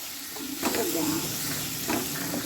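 Masala-coated prawns fry in a pan with ginger and garlic, a loud continuous hissing sizzle with swells as they are stirred and turned, no one talking.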